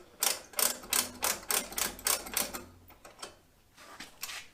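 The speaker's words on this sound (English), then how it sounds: "but we'll still use the ratcheting wrench." A ratcheting wrench turning a bolt on a Generac generator while its battery is changed, heard as a rapid, close run of sharp clicks that slows and fades into a few softer ticks, with no talking.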